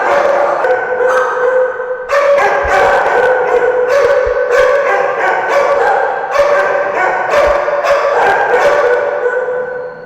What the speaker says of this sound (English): She's barking right now